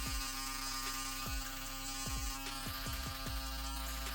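Manscaped Handyman electric razor with foil and clipper blade trimming a beard along the neckline: a steady, close electric buzz with a constant hum, broken by several brief scratchy clicks as the blade meets hair.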